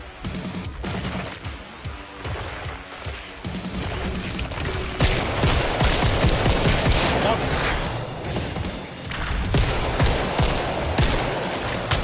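Sentry gun in a video game firing in a sustained, dense burst of rapid shots, loud and near, running through the whole stretch with a few heavier booms mixed in.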